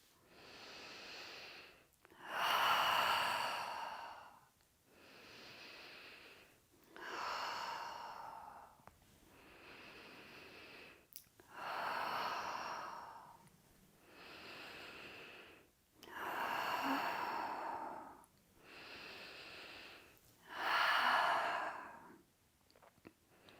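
Slow, deep human breathing in a breathwork class, with full audible inhales and exhales alternating in a steady rhythm, about ten breath cycles, close and alone without talk.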